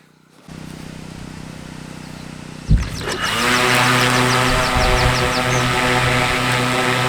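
A German Vector reconnaissance drone starts up with a sharp clack, then its propeller motor spins up into a loud steady drone with a bright high buzz that holds to the end.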